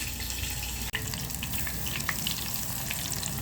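Breaded panée cutlets frying in hot oil in a pan, a steady close crackling sizzle that runs continuously, with one brief dropout near the start.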